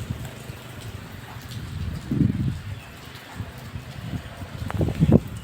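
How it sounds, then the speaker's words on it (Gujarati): Steady rain falls outdoors at a hot work site where cutting is being done, a soft continuous patter with a few louder nearby splashes and low rumbles swelling briefly. "પણ આજ અમારે વરસાદ આવ્યો છે ફૂલ."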